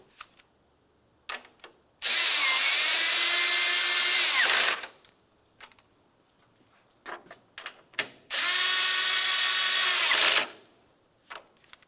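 Two close bursts of a power drill driving 10mm headed bolts on a Ford Flex bumper, each about two and a half seconds, with handling clicks and taps between them.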